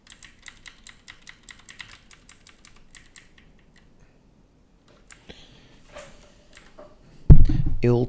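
Someone types on a computer keyboard, with quick, close key clicks in short bursts that thin out into scattered taps. A louder rustling thump follows near the end.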